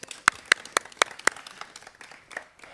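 At a bridge ribbon-cutting, a handful of slow, distinct claps ring out close by at an even rhythm, then fade into quieter scattered clapping from a small outdoor crowd.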